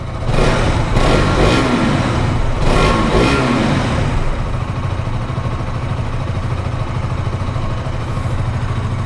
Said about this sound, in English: the sounding is similar to that of the KTM Duke 200 with that underbelly setup exhaust